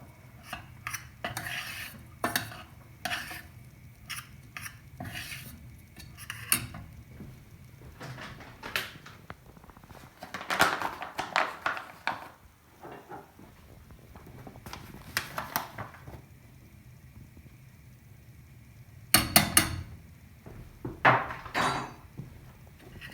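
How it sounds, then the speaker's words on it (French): A homemade solid shampoo mixture in a pot being stirred, with irregular scraping and clinking of a utensil against the pot, close and in bursts with quieter pauses between. "Et on mélange."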